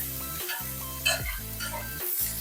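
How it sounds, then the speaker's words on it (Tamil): Onions sizzle steadily in a pan while being stirred for soya chunk biryani, with a few scraping strokes of the spoon and no voices. "வெங்காயத்தை வந்து ரொம்ப நேரம் வேக விடணும்"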